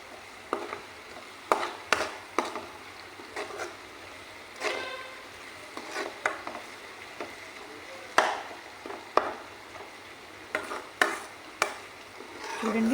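Ginger garlic paste fries in oil for mutton curry while a spoon scrapes and clinks against the pan in irregular, fairly loud strokes over a quiet sizzle.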